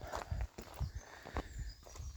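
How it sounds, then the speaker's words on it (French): Footsteps crunch along at a steady walking pace in the desert, about two steps per second, close and moderately quiet, with faint background noise and no talking. "je m'excuse un peu pour les bruits de pas"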